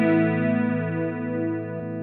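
A sustained distorted electric guitar chord rings out with a gentle wavering shimmer from an Ampeg Liquifier chorus effect on a Line 6 Helix, steady and alone.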